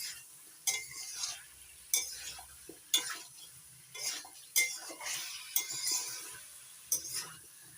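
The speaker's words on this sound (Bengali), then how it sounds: "সজনে ডাঁটা আর আলু মশলার সঙ্গে ভালো করে কষিয়ে নেব।" Spoon stirring fried potatoes and drumstick pieces with spices in a pan, giving repeated scraping clinks and clatters at an irregular beat, with a faint sizzle underneath and no voices.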